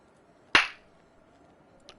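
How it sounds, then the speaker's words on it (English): A single sharp hand clap rings out in a quiet room, followed by a faint second tap near the end. No one speaks. "After the clap."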